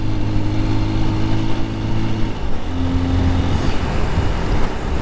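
Honda XR150L dual-sport motorcycle engine pulling away under throttle, a steady loud drone with a tone shift partway through, no talking.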